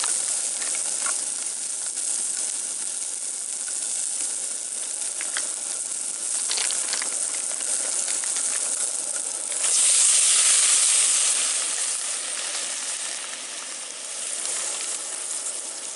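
Raw Pacific white shrimp sizzle in a hot pan outdoors, a steady loud hiss and crackle that swells midway and then eases, with no talking.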